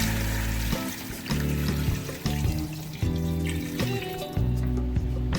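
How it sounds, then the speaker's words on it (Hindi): Water pours steadily from a jug in a continuous stream, splashing into a pot of fried mutton paya, with a tonal musical backdrop running throughout. "एक जग भर कर मैंने पानी का ऐड किया है।"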